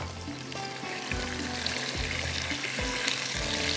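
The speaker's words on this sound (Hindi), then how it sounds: "गोश्त डालकर थोड़ा सा इसको फ्राई करते हैं" Meat (gosht) frying in a pan sizzles steadily, growing louder after a second, with intermittent thumps and scrapes of stirring over a constant hiss.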